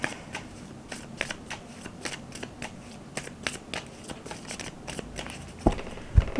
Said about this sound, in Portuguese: Eu vou aqui embaralhar o tarô na frente de vocês